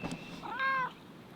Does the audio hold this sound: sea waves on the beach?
no